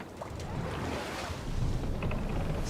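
A sailing ship at sea in the video game Assassin's Creed Valhalla: a steady, full rush of wind and water wash with a low rumble that swells slightly toward the end, heard alone without voices.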